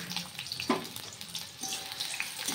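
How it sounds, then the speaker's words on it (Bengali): Onion frying lightly in a home kitchen pan, a gentle continuous sizzle with a single sharper tap partway through, faint and close, nobody speaking. "এই জন্য পেঁয়াজটা একটু হালকা করে ভেজে নিলাম।"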